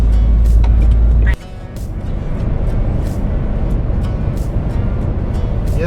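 A truck cruising along a snow-covered Norwegian highway in a blizzard, its steady engine drone and road rumble filling the cab continuously after a brief louder burst at the start.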